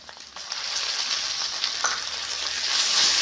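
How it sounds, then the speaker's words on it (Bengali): Spices frying in a pan with freshly added tomato paste for a fish curry, a sizzling hiss that swells louder over a few seconds with faint stirring scrapes underneath. "দিয়ে আমি একটু ভালো করে নাড়াচাড়া করে নেব"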